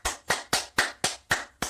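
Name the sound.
hands clapping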